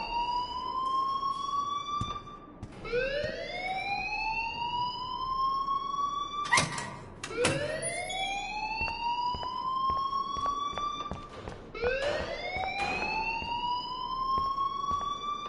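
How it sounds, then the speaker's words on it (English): A wailing electronic alarm siren in the video game Life is Strange, rising in repeated sweeps every few seconds, loud and continuous with no talk over it. "please turn off that alarm since that's your job."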